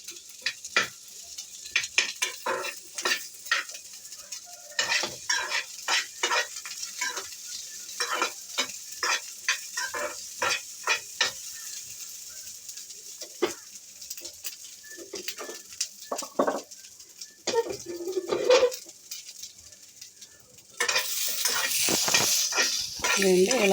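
Sweet corn and carrot fry lightly in a little oil, giving a steady hissing sizzle broken by frequent short scraping stirs. Near the end the sizzle swells louder, and faint birdsong carries in the background.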